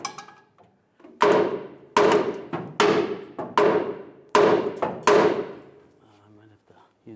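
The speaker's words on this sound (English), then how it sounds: "I'm just gonna take a hammer, tap it off" Six sharp metallic hammer taps in an uneven rhythm knocking out rivets on a Chevrolet Silverado leaf spring shackle bracket, close and loud, each ringing briefly before the next blow.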